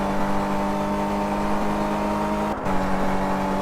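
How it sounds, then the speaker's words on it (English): Maserati Quattroporte in the Car Mechanic 2015 video game, engine droning steadily at high revs in eighth gear near 300 km/h, a sustained loud whine with a brief dip in the middle. "coming up to 300 kilometers an hour in eighth gear"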